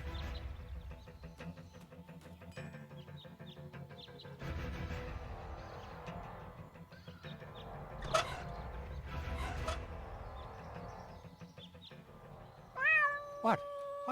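In the Deponia video game, a cat gives one short, rising-then-falling meow near the end, after a long stretch of game background sound.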